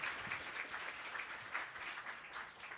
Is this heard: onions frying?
no